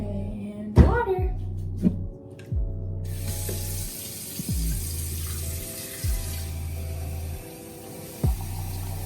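Tap water pouring into a container for a chia seed drink, a steady hissing rush running throughout, with brief clinks and low thumps and some faint background murmur mixed in.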